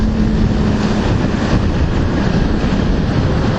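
Yamaha R6 sport bike engine under steady throttle on a test ride, a loud, continuous broadband roar with heavy wind buffeting across the microphone from start to finish.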